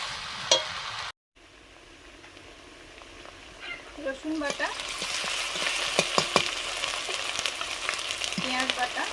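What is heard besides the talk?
fried fish bones sautéing with vegetables and spices in pan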